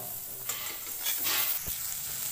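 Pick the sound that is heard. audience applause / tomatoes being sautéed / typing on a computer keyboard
tomatoes being sautéed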